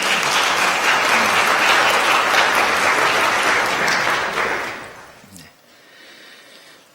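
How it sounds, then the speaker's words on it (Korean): Church congregation applauding in welcome during a Sunday worship service, a loud sustained clapping that fills the room for about five seconds, then tapers off to quiet room tone. "여러분들 환영의 박수 부탁드리겠습니다."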